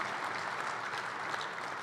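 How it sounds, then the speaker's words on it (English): A round of applause for car owners at a Lucas Oil Late Model Dirt Series banquet, steady crowd clapping at a moderate, distant-sounding level. "every car owner, these folks, just give these guys a round of applause"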